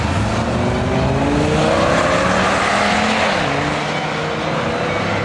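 A Dodge SRT10 pickup truck with a V10 engine roars at a drag strip, its loud, sustained engine note rising steadily in pitch as it accelerates down the track.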